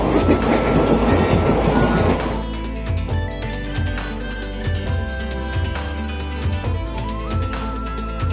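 Kolkata to Digha special train running: a loud, dense rolling rumble for the first two seconds, then a steadier, quieter running noise with faint rhythmic clatter continuing to the end.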